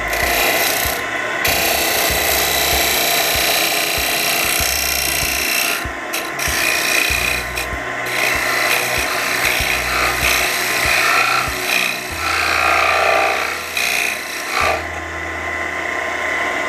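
A wooden tippe top being hollowed on a lathe, a loud continuous rasping scrape of the cutting tool against spinning wood, with steady motor hum and brief pauses between cuts.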